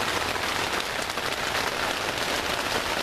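Steady rain pours down at a campsite in summer, a dense, even hiss of drops striking surfaces close by, unbroken throughout with no voices.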